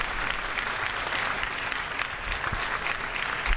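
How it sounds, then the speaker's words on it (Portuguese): Steady burst of applause sound effect, dense even clapping at constant loudness throughout with no voices. "Essas palmas são meio longas"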